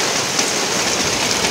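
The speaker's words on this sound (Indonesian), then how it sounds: "Ini kan kondisi lagi hujan" Steady rain falls over an open-roof hydroponic garden, a dense, constant hiss of drops with no breaks, close and filling the whole short stretch.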